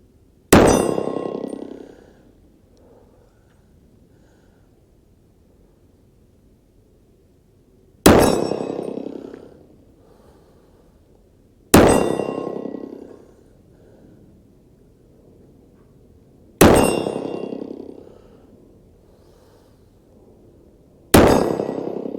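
Rifle rounds strike a steel plate target five times at irregular intervals, each impact a loud metallic clang that rings out and fades over a couple of seconds, with quiet between hits.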